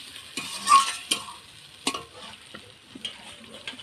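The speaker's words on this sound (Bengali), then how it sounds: "জল দিয়ে আর একটু কষবো মশলাটাকে" Masala spices for a chicken curry stirred and fried with water in a pan, with bursts of spoon scraping over a steady sizzle, loud and close.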